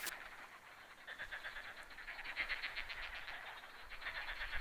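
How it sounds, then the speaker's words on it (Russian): Frogs croaking by a river during a perch-fishing trip, a dense chorus of rapid pulsing calls at a steady rhythm, fairly faint and distant, with no talk. "Лягушки расквакались"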